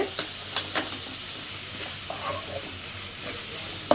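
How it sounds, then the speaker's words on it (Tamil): Onions sautéing with salt in a pan for an egg stir-fry, a gentle steady sizzle with occasional spatula clicks and taps, close but fairly quiet. "வெங்காயம் வந்துட்டு நல்லா வதங்கணும்"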